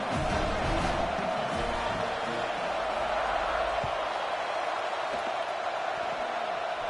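A stadium crowd at a college football video game makes a steady, noisy roar that fills the whole stretch at moderate volume, with no clear peaks of cheering.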